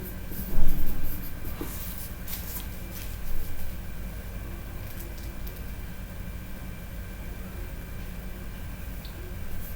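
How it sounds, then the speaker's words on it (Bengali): Pen writing out math working on paper, a few close scratchy strokes early on, then faint writing under a steady background hiss. "লিখে নিই।"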